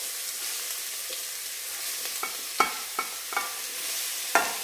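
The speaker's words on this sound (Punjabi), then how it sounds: "ਇੱਕ ਚਮਚਾ ਘਿਓ ਦਾ ਹੋਰ ਪਾ ਦਾਂਗੇ, ਨਾਲ ਹੀ ਹੁਣ ਆਪਾਂ ਇਹਦੇ ਵਿੱਚ ਗਾਜਰਾਂ ਪਾ ਦੇਣੀਆਂ।" Grated carrots in hot ghee sizzle steadily while a spoon scrapes and taps the pan several times, close up and with no voices.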